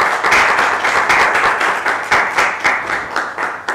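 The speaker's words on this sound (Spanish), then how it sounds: "Le damos un aplauso de bienvenida al doctor." An audience at a presentation of a book on Mexican customs law applauds in welcome, a dense, steady clapping from many hands that stays loud throughout.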